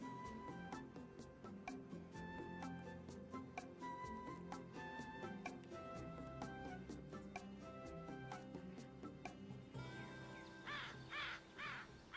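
American crows caw repeatedly in a flock, harsh calls layered over a continuous musical background, with a cluster of louder cries toward the end.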